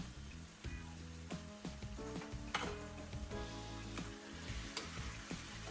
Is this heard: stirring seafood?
yes